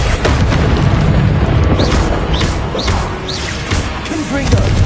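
Incendio fire spell cast in a Harry Potter video game, a steady loud roar of fiery booms and crackling bursts with short whooshing streaks, continuous over the whole stretch with no talking.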